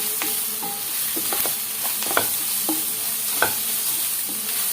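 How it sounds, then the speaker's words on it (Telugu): Onions roasting over high heat in a pan for an egg omelet curry, with a steady sizzle and scattered sharp scraping clicks from stirring, close up and with no voices. "ఉల్లిపాయలు కొంచెం హైలోనే రోస్ట్ అవుతే బాగుండిద్ది అనమాట"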